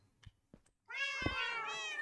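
A cat meows in a Minecraft-style lucky block game: a few soft clicks, then one long, loud, wavering meow close up with no talking.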